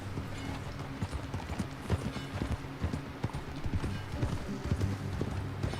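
Horse hooves in Red Dead Redemption 2 clip-clop in a steady trotting rhythm, close and clear, with a faint low ambient drone behind.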